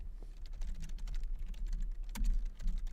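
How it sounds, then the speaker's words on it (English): Typing on a computer keyboard while working in an Excel spreadsheet, a steady run of close, soft key clicks with a firmer tap about two thirds through, alone with no talk. "I'm not typing very effectively inside of Excel today"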